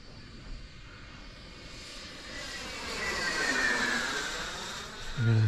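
A Bommerang RC Mini Viper model jet on its maiden flight, its engine whining steadily overhead and swelling louder as it passes, with no talk.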